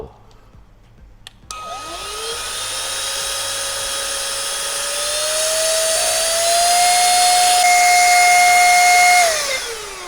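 A small handheld battery-powered air blower spins up and runs steadily, a loud high-pitched whine that rises in pitch and intensity while blowing water and dust out of crevices, then cuts off abruptly near the end.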